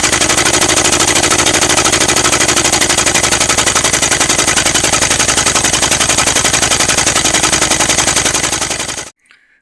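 An engine cranks over steadily with its number 4 spark plug removed and a spark tester fitted. It gives a fast, even, loud chugging for about nine seconds before abruptly stopping.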